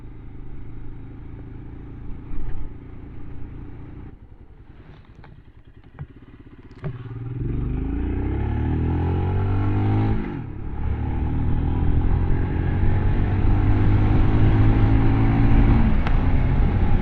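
A Royal Enfield Scram 411 rides on asphalt with a steady engine hum and wind rush, then accelerates hard with rising revs through the gears, loud and close.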